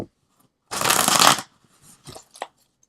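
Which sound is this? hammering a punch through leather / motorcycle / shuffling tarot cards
shuffling tarot cards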